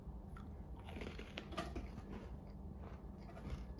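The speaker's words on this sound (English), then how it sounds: "Let's try a bite of one of the little cookies." Biting and crunching a small cookie up close, soft crisp crunches and chewing at a quiet level with no talk.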